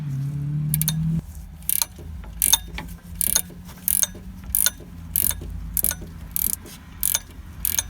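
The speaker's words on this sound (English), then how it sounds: "Next, I'll be removing the two bolts that connect to the bracket here." A hand ratchet loosening the bracket bolts on a Porsche 924S A/C compressor, close, with regular bursts of rapid clicking repeated about every half second to second, no talking.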